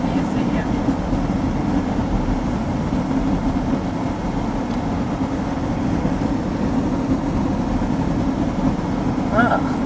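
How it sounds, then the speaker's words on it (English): Trains bank up in a railroad yard in the railroad town of Wishram, a dense rumbling rail noise holding steady throughout, with faint squeals near the end. "Lots of trains banked up, going nowhere."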